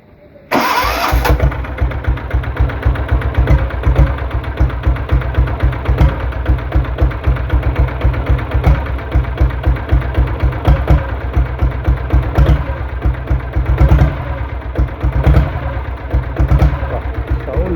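A vintage Royal Enfield Bullet motorcycle fires up after a short crank, then settles into a steady, close, thumping single-cylinder idle that runs on evenly throughout.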